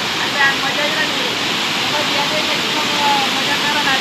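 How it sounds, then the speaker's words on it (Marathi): Nava Devi waterfall near Shirpur, Dhule, roars as a loud, steady wash of falling water filling the air without a break; voices murmur faintly beneath it. "आपला धबधबा नवादेवी माता"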